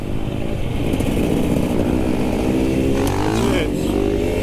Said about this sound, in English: You just pop the throttle on, just lifts up, it's so easy.